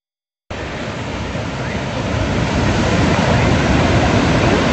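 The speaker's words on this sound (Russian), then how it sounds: "Посмотрите, какие волны." Ocean surf crashes and rushes in a continuous broad roar that starts abruptly and grows slightly louder, with wind mixed in and no talking.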